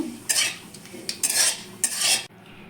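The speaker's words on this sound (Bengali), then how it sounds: "ভালো করে একটু নাড়াচাড়া করে নেব" Bay leaf, cinnamon and whole cumin stirred in hot oil for a cauliflower and potato curry, three close bursts of bright sizzling and spoon scraping against the pan, dropping off abruptly at the end.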